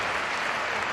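Home crowd at Palau Blaugrana clapping and cheering at a Barça handball match against Telekom Veszprém, a dense, loud, continuous wash of applause filling the arena.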